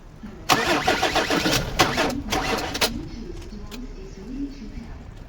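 A car engine cranks in cold winter weather, jump-started from a Vitals JS 600 booster: a loud burst of cranking churn with a rhythmic pulse for about two seconds. It fails to catch and fades into quiet background hum.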